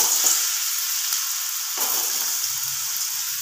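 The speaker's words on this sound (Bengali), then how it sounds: "তো আমার তেল গরম হয়ে গেছে, প্রথমেই আমি এখানে 1 ফোঁটা হলুদ দিলাম, দিয়ে আমি আলুগুলো ছেড়ে দেব।" Diced potatoes hit hot oil seasoned with a pinch of turmeric, giving a steady, close hiss of frying that swells with a fresh burst of sizzle partway through.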